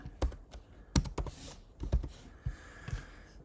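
Fingers typing on a computer keyboard: irregular clusters of crisp key clicks and thumps, close and clear, with short pauses between bursts and no talking.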